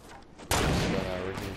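A sudden burst of video game gunfire breaks in loudly after a quiet start and keeps rumbling with rapid shots and echoes during a Season 5 battle pass match.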